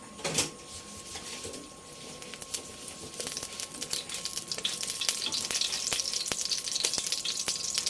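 Cooking oil left from frying tofu sizzling in a pan, a close crackling hiss with sharp pops that grows busier and louder over several seconds.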